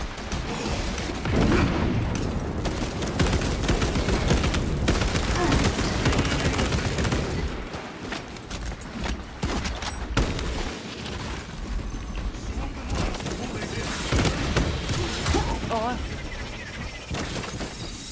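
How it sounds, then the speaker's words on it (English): A krak grenade explosion and sustained gunfire erupt in a Warhammer 40,000 video game, with dense volleys, booms and mechanical clatter rolling through the battle while voices talk over the action. "Throwing crack grenade."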